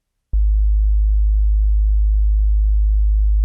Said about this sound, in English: We have an oscillator over here, which is just outputting a basic sine wave,